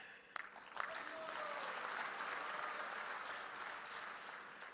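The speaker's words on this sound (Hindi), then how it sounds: "मैं ताली बजाना शुरू हो गया" Audience applauding at the 150th Appearance Day celebration of Srila Bhakti Siddhanta addressed by PM Modi: a couple of sharp claps, then sustained, even, dense clapping from a large crowd that holds steady and fades slightly.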